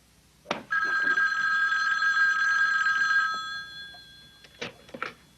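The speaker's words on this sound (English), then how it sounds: "Mike, there's a call for you." An old-style telephone bell rings indoors in one long continuous trill, then falls quiet as a few clunks and handling knocks follow.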